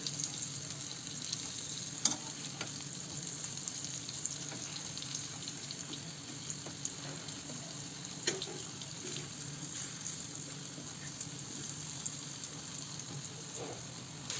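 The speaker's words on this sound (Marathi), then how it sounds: "दोन्ही साईडने छान कलर येईपर्यंत आपल्याला तळून घ्यायचा आहे." Vegetarian slices shallow-frying in a pan on a gas stove give a soft, continuous sizzle with occasional faint clicks and pops, quiet and steady with no talking.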